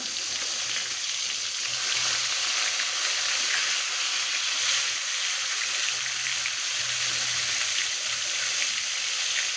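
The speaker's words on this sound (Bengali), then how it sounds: "মাছ আমি বেশি ভাজবো না, হালকা ভেজে নেব।" Pangasius fish pieces frying lightly in a pan of oil, giving a steady, even sizzle and crackle that runs unbroken throughout, close and moderately loud with no talking.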